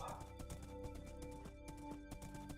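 A horse in modded Minecraft 1.12.2 gives quick, regular hoof clops near a stable, steady and moderately loud against a background music drone.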